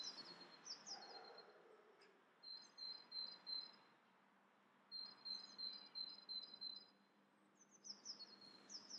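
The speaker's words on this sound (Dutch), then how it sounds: "jullie horen de vogeltjes rondom ons heen fluiten" Small birds chirp and tweet in quick bursts outdoors, fairly faint against a quiet background hum, with short pauses between phrases.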